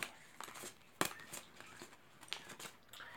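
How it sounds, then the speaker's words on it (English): Tarot cards being shuffled by hand, a short run of soft, crisp riffles and light papery taps coming in irregular bursts, close and fairly quiet with no talk. "Now shuffling for the Stone Kingdom of Yahweh."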